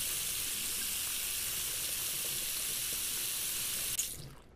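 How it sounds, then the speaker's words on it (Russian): Cold water runs from a kitchen tap in Cooking Simulator as a steady, close hiss that holds for about four seconds before the tap shuts off and the sound tails away. "Я налил холодной воды из крана."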